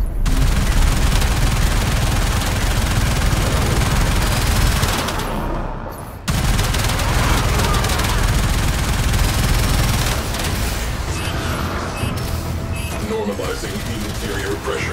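Heavy, continuous gunfire from the Railjack ship in the video game Warframe, loud and sustained, briefly cutting out mid-way before resuming, with a voice speaking at points.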